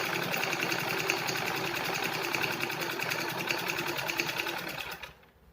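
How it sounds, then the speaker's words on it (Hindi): A sewing machine stitches double-folded fabric piping on a pocket organizer, a steady, fast mechanical whirr with a rapid repetitive rhythm that runs alone and close before stopping abruptly near the end. "इस तरह से हमने इसको डबल फोल्ड करके पाइपिंग को सेट करके सिलाई लगा देनी"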